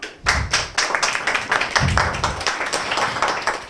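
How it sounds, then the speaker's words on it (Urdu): An audience at an international women's conference in Copenhagen claps. The clapping is loud and close, with separate sharp claps from a smaller group rather than a dense roar, and it keeps going unevenly for a few seconds. "ان کے لیے تالیاں"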